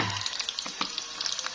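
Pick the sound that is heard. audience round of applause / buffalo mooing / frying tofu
frying tofu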